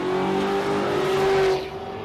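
Drag race cars accelerating hard down the strip at Warwick Dragway, a loud sustained engine roar that holds steady for about a second and a half, then drops away and fades.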